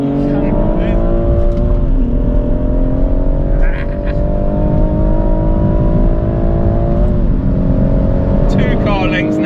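A BMW M2 Competition and an M140i with six-speed manual gearboxes drag race flat out at around 120 mph, engines droning loudly and rising in pitch through the gears, with brief dips at shifts.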